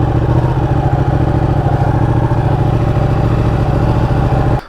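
A Ducati Panigale superbike engine runs steadily and loudly at close range, a continuous throbbing idle with mechanical clatter that holds for several seconds before cutting off abruptly at the end.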